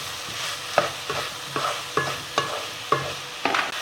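Mushrooms and masala are stirred in a frying pan with tomato, giving a steady soft sizzle under evenly spaced spatula scrapes and taps, about eight strokes, close and moderately loud, with no talking.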